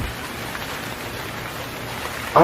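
Steady rain falls throughout, a soft even patter, with a louder sudden burst right at the end.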